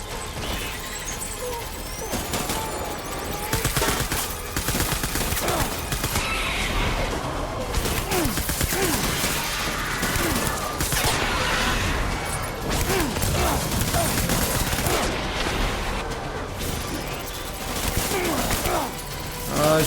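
Gunfire rattles through a boss fight in Death Stranding, dense bursts and impacts mixed with chaotic mechanical and crashing game sounds, steady and loud throughout.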